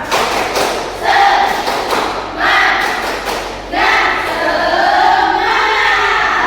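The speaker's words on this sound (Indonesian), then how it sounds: "Tepuk semangat." A classroom performs the rhythmic 'tepuk semangat' spirit clap during a micro-teaching lesson, patterned bursts of group clapping and thumps with voices chanting along in loud, close, uneven waves.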